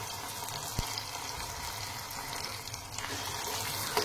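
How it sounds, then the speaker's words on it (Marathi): Dal tadka tempering with dried red chillies sizzling in oil over a low gas flame, a soft continuous frying hiss, close and steady, with one small pop. "लहान गॅसवर मी हा तडका परतून घेत आहे"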